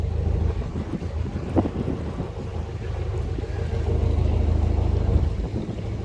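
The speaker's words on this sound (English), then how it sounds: "bloody windy up here" Strong wind buffets the microphone on a canal beside a large pivoting structure near Plank Lane, Leigh, a continuous low roaring rumble with gusts, loud and close, no voices.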